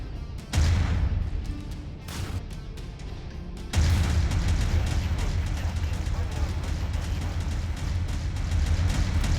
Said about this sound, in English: let's take a look at the Autocannon 2 in action